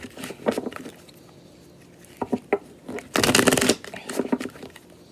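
Crisp riffling of a tarot card deck being shuffled, several short bursts of flicking then one dense rapid riffle, close and clear with no talk.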